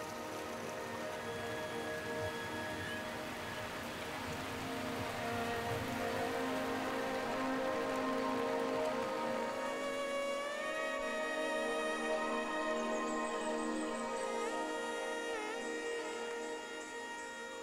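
Steady rain falls in a Borneo forest, a dense continuous hiss of drops on leaves, with tonal insect or bird calls rising over it in the second half.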